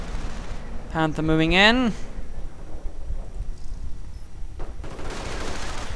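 Strategy game battle with units and snipers firing, a rumble of scattered gunshots and distant bursts behind a commentator speaking quickly.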